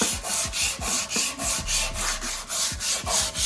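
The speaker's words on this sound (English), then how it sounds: "Letting the sandpaper do the work." A motorcycle gas tank being sanded by hand with 120-grit sandpaper, rhythmic back-and-forth rasping strokes about three per second, close and loud with no talking.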